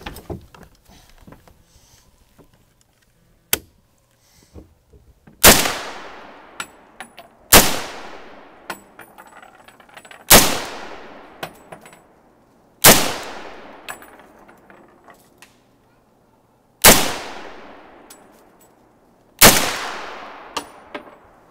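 Gunshots at a shooting range: several loud, sharp reports fired a couple of seconds apart, each ringing out into a long reverberant tail, with small clicks and handling noises between them.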